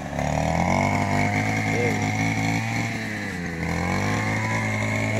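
A gasoline grass cutter runs steadily in a string bean garden, its engine a loud, continuous buzzing drone that dips and rises slightly in pitch under occasional voices.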